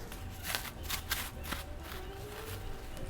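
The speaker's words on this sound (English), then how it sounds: "You want to keep your plastic wrap as you're unwrapping" Plastic wrap is peeled off chilled dough for rough puff pastry, giving close, crinkly crackles and soft rustling bursts over a few seconds, with no speech.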